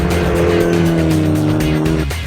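A Mitsubishi Lancer Evolution X on a racing circuit holds a sustained tire squeal through a gentle drift in third gear out to the rumble strips, under a loud, steady engine note heard from on board.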